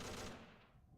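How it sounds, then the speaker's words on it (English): Light gunfire in a military strategy video game, a dense burst of loud rapid shots that fades quickly toward the end of the second. "There's some light gunfire."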